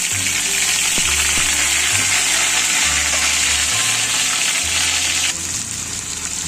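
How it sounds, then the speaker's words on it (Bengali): Dried red chillies and ginger sizzle loudly in hot oil as a tempering for dal, a dense, continuous close-up crackle and hiss with faint low clunks of a utensil against the pan. "তেলের মধ্যে শুকনো লঙ্কা ফোড়ন দিয়ে দিলাম আদা দিয়ে দিলাম"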